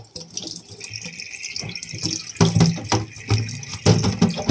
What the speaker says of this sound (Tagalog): Siyempre, hugasan muna natin yung sardinas.